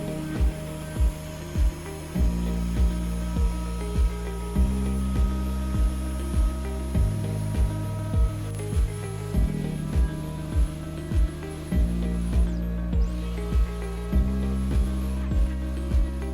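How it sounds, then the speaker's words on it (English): A router fitted with a small bearing-guided roundover bit hums steadily as it rounds over the upper edge of a wooden workbench, with a rhythmic series of soft ticks and shifts in pitch as it moves along the edge. "rounding over the upper edge, using a small roundover bit with a guide bearing"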